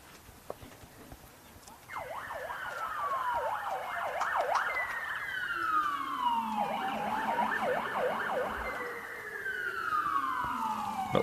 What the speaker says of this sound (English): Not sure what that siren is.